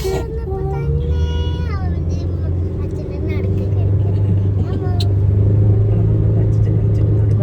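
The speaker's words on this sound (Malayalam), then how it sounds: "വണ്ടികൾ ഇങ്ങനെ ഇറങ്ങി ഇറങ്ങി വരുന്നുണ്ട്" Vehicles coming down a road make a steady engine rumble that grows louder toward the end, one passing close by, as people talk over the traffic.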